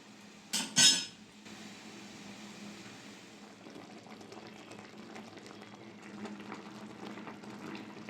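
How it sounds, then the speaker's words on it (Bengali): Fish roe fritters simmer in a boiling sour broth, a couple of loud utensil clanks up front, then a soft steady bubbling with faint stirring underneath, no talking. "ঝোল ফুটে গেছে, মাছের ডিমের বড়াগুলো আমি দিয়ে দেবো। একটু নাড়িয়ে দেবো"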